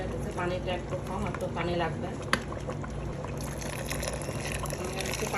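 Water pours steadily into a pressure cooker of mutton being cooked for Bukhari rice, a continuous splashing rush with a voice faintly audible beneath it.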